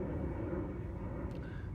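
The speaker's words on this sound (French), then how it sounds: "il y a le bruit de cet avion" An airplane passes overhead, giving a steady, broad low rumble that holds at a constant level throughout, with no voices over it.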